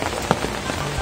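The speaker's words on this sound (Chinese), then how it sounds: "开始下雨" Rain beginning to fall at an outdoor shrine-like spot in a traditional Ryukyu village in Okinawa, a steady soft patter on surfaces over about a second with a faint low hum underneath.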